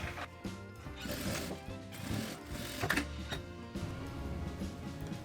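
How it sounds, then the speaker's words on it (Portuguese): A sewing machine runs steadily while stitching a straight seam on fabric for a small box case, making a fast, even mechanical clatter that stays close and quiet throughout, with no speech. "vou passar uma costura reta aqui"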